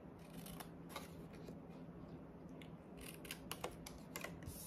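Scissors snip through cardstock to trim the bottom corner off a punch art treat box, a few quiet crisp clicks and cuts scattered over a faint steady hiss, close and soft.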